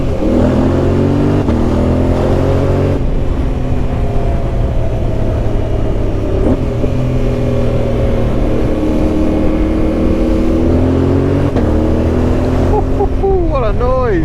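A motorcycle on a Bosnian moto tour revs hard along twisty roads, its loud engine note rising and falling through gear changes and echoing off nearby rocks, with faint talk over the roar.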